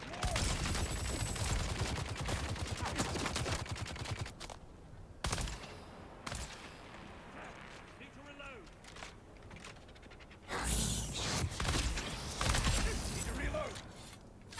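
Darts firing two at a time in the Dune Awakening video game, dense mechanical shooting bursts with crackling impacts amid busy game sound, pausing midway and then resuming.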